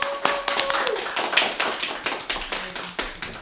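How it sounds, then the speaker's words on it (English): Hand clapping for the next game on a podcast, a rapid run of sharp, close claps, fairly steady in rhythm, carrying on with no talk over it. "Let's get a hand clap for the next game"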